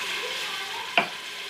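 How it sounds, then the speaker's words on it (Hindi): Water poured into a pan of softened, frying masala for whole black masoor dal, a short splash and sizzle burst over a steady low frying hiss, close and alone. "अब हम इसमें 4 गिलास पानी शामिल कर देते हैं।"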